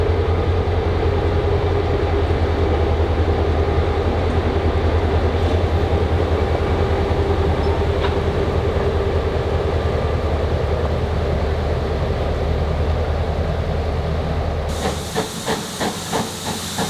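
Great Smoky Mountains Railroad steam locomotive 1702 on the line near Nantahala gives a loud, continuous roar and hiss of steam under a steady low rumble. Near the end a burst of sharp, rhythmic chuffs breaks through.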